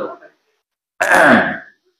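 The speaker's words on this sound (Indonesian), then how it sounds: "Terus dia berdehem." A man clears his throat once, a loud, close, rough rasp lasting under a second, just after a short snatch of his voice.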